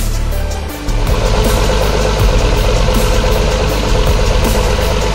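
A coach bus of the ALS 145 executive class, bound from Java to Medan, idles at Muara Bungo terminal with a steady low engine rumble and vibration, close and loud without talk.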